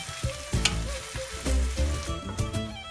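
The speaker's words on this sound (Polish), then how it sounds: "Cebulkę przesmażamy na maśle." Chopped onion frying in butter in a pan, a steady close sizzle with bursts of crackle as the pieces are stirred, no voices over it.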